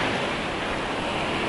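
Sea waves washing onto a beach in Antalya, Turkey, in May: a continuous, loud broadband roar of surf with no distinct breaks and no speech.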